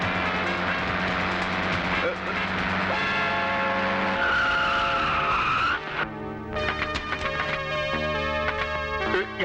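A car brakes hard with tires screeching in long, loud squeals, then comes to a stop while tense voices and dramatic music carry on over the top.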